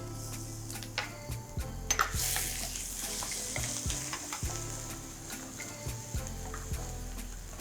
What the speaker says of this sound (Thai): น้ำมันร้อน ใส่หอมกระเทียมลงไปผัด